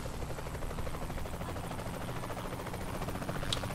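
Helicopter in the video game Saints Row The Third, a steady close rotor thrum and whine filling the scene continuously without breaks.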